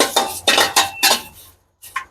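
A metal spoon scrapes and clinks against a hot pan in a few quick, rhythmic stirring strokes while dried curry leaves are dry-roasted for paruppu podi, close and clear, with a short pause before one last scrape.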